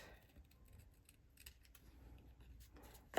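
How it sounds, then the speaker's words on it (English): Metal snips cut through card paper in a series of quiet, crisp snips, close and faint against a hushed room, with a sharper click at the very end; nobody speaks. "And then I'm going to take my snips. I'm just going to cut this off"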